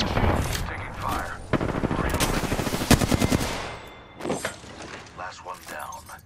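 Gunfire in the video game Apex Legends: repeated rapid bursts and single shots, loud and close, spread through the clip with short pauses between volleys.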